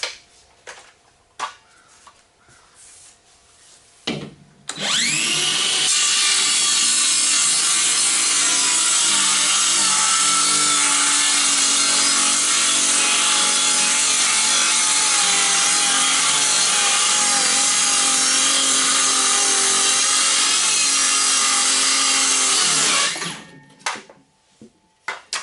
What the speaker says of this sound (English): Fire up the saw.